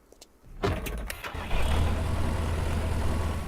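A tractor engine in the farming game Farmer's Dynasty cranks and catches after a brief quiet moment, then settles into a steady, loud, low idle rumble.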